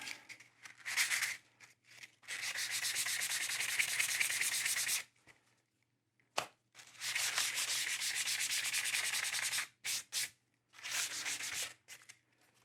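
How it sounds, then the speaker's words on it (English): Sandpaper rubs across veg tan leather in long, steady strokes, a close, soft scratchy rasp in three sustained bursts separated by short pauses. "And then again with sandpaper."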